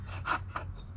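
A knife scrapes thin shavings off a fatwood stick, three quick rasping strokes in close succession, dry and close-up with a faint woody scratch.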